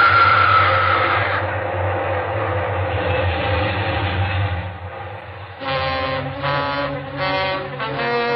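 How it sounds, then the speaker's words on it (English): Long, loud train rumbling past as a radio-drama sound effect, a heavy continuous roar that shifts partway through into a clattering, rhythmic rolling of cars with steady low rumble, no voices. "there's the big baby now. A nice, long train. Long and loud."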